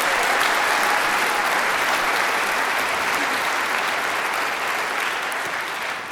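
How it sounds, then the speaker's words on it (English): An audience at a school district orchestra concert applauds three all-state student players with a loud, dense, steady round of clapping that holds throughout and eases slightly at the end. "Let's give all 3 of those kids a round of applause."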